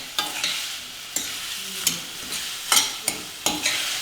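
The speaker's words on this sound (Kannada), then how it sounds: "ಒಂದು ಮೀಡಿಯಂ ಸೈಜ್ ಟೊಮೆಟೊನ ಕಟ್ ಮಾಡಿಬಿಟ್ಟು ಹಾಕ್ತಾ ಇದ್ದೀನಿ. ಟೊಮೆಟೊ ಸ್ವಲ್ಪ ಸಾಫ್ಟ್ ಆಗೋವರೆಗೂ ಬೇಯಿಸ್ಕೋಬೇಕು." Chopped medium-size tomato sizzling in a hot pan, with several sharp scraping stirs of a spoon at uneven intervals over a constant close-up frying hiss.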